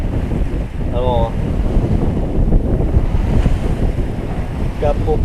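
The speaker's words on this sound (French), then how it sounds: "Là on entend, il y a une petite vague." Small sea waves wash and wind buffets the microphone while sailing off Sardinia, a continuous close rushing roar with brief faint chirps in between.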